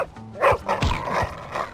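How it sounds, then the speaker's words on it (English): A dog barks in the video game Bully, a few short, close yaps and woofs in quick succession with a slight whimpering edge. "Oh, it's a doggy."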